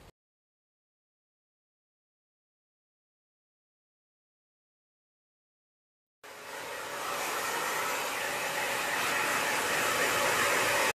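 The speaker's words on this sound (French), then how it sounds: "je me suis séché les cheveux que avec le sèche-cheveux" A hair dryer blows steadily on hair after a shampoo and coconut-oil mask, its loud, even airflow roar starting abruptly after a long silence and continuing to the end.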